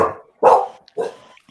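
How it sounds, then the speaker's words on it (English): A dog barks three times, sharp and fairly close, with short silent gaps between the barks. "that's a dog, by the way."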